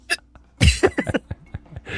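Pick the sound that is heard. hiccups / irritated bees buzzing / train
hiccups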